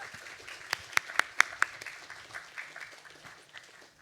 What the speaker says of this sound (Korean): 우리 하나님께 영광의 박수 한번 올려드리겠습니다